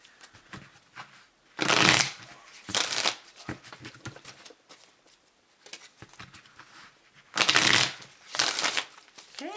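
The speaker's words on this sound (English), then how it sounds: "I'm going to shuffle this deck 3 times here" A deck of tarot cards is shuffled in four crisp riffling bursts, each about half a second long, with quieter card handling and soft rustling between them. Close and clear, with no talking.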